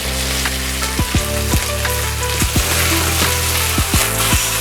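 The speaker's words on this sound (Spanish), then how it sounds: "Y agregamos el pollo que hemos estado marinando para dorarlo." Marinated chicken browning in a hot pan sizzles loudly and steadily, with occasional soft scraping and stirring knocks from a utensil over the constant frying hiss.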